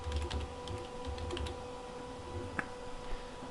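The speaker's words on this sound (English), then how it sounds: "And then we can type in our SSID" Soft, rapid keystrokes on a computer keyboard as a network SSID is entered during a Windows XP wireless setup, quiet and close, with one sharper click near the end.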